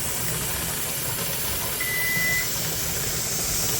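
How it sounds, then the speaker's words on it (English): Steady steam hissing from a pressure canner processing beef bone broth, a continuous close broadband hiss with low rumble beneath and a brief faint tone midway, no talking. "And then that stops the steam from coming out"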